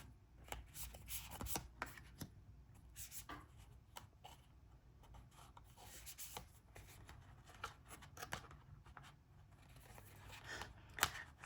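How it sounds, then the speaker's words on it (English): An oracle card deck handled and shuffled, continuous soft rubbing and flicking of cards with sharp slaps and snaps throughout, close and quiet. "I'm going to draw a couple of oracle cards from this deck and another"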